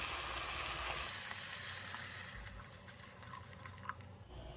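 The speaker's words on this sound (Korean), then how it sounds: "고기하고 야채가 어느 정도 이제 볶아졌으면 여기에 물을 부어주세요." Water is poured into stir-fried meat and vegetables for curry, giving a faint, steady sizzle and bubbling liquid sound close by, with no talk.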